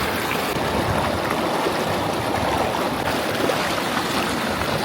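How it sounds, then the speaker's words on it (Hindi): Ganges water rushes steadily at Gangotri while a container is filled from it, a loud, continuous broadband roar of flowing water with no breaks. "गंगा जल को यहाँ से भर लेते हैं"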